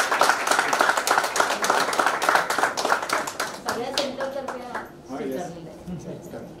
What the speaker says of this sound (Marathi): सगळ्यांतर्फे सगळ्यांनी टाळ्या होऊन द्या जोरात.